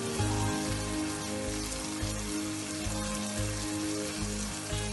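Tomatoes fry in a pan for a Punjabi curry, a steady close sizzle with a dense crackle that runs unbroken through the whole stretch, with a low rhythmic thumping beneath it and no voices.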